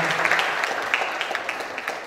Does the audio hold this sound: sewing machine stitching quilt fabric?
no